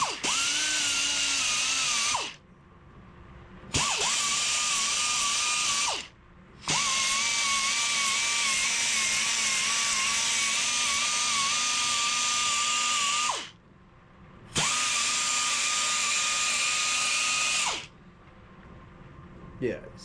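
A belt sander skims a gearbox part in four loud, whining passes of a few seconds each, separated by short pauses, heard up close.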